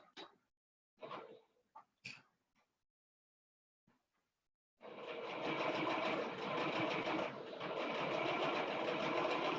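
A sewing machine stitches a straight seam down a dress, starting after a few soft handling knocks and then running steadily and close for about five seconds with a brief slowdown midway.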